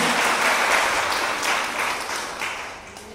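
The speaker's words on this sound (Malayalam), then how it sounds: "ഒരു ഉഗ്രൻ കൈയടി കൊടുത്ത കർത്താവിനും." A congregation at a sisters' retreat breaks into loud, sustained applause that swells and slowly fades over a few seconds, dense and close with no speech over it.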